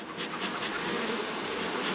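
Honey bees buzz steadily at an opened home hive, a close, continuous droning hum with a few individual bees flying past.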